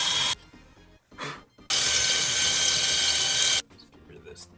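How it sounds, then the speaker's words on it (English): A power drill bores a hole into brick for mounting a light bracket: a short burst, a brief second whir, then a loud sustained grinding run of about two seconds, with quiet handling noise between. "So let's get a drill and make some holes."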